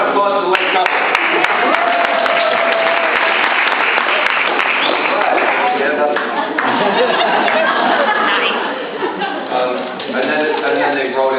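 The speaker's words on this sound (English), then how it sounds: "Round of applause for the late couple." Concert audience applauding a late-arriving couple at a show, dense steady clapping close up with voices and cheering mixed in, dipping briefly near the end before swelling again.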